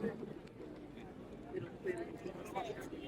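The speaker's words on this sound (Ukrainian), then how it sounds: "Дуже багато голубів." Soft pigeon coos repeat outdoors at moderate distance on the main square in Bogotá, mixed with a background murmur of people and faint footsteps.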